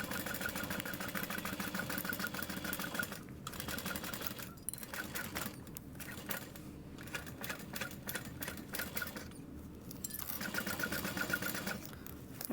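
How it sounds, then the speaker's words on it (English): A sewing machine stitches a fabric wristlet, sewing around darts and back-stitching, giving a fast, steady mechanical chatter that briefly pauses and restarts several times, close and fairly quiet, with no talking. "I'm getting to the darts and I'm going to back stitch over just a little bit"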